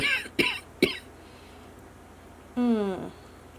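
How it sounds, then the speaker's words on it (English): Two or three short, sharp coughs from allergies, close up, then a pause and a brief voiced throat sound. "he's not coughing quite as much as I am"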